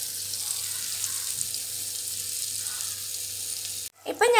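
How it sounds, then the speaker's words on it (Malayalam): Masala-stuffed brinjal frying in a pan on a low simmer gives a steady soft sizzle throughout, with a brief sharper burst of crackle near the end. "മസാല ഉരുട്ടി വെച്ചത് ആദ്യം ഇട്ട് കൊടുക്കാം. അപ്പോൾ തീയ് നമ്മൾ വളരെ കുറച്ച് മാത്രം സിമ്മിലിട്ടാൽ മതി."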